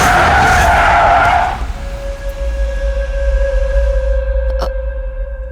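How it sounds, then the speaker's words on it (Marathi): A car brakes hard with a loud, near tire screech lasting over a second, then a long steady whine fades under low rumble. "ब्रेक का मारला?"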